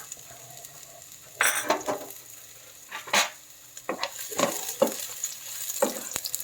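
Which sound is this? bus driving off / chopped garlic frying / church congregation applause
chopped garlic frying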